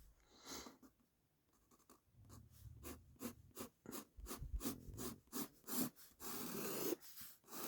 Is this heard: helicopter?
no